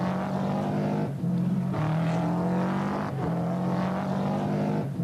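A rally car, a 1991 Circuit of Ireland competitor, drives a stage on a punctured tyre with a steady loud engine drone whose pitch rises and dips through gear changes, close and continuous.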